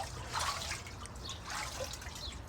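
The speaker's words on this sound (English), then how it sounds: "See the water come down?" Water pours and trickles down in an uneven, splashy stream with a couple of louder surges, moderately close and steady, with no talking.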